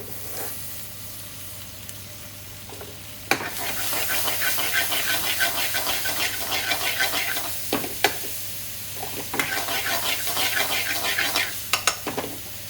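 Onions and freshly diced whole tomatoes for lamb rogan josh hit a hot pan, quiet at first, then a loud sizzling hiss bursts in and continues with stirring scrapes and clinks, briefly easing before surging again.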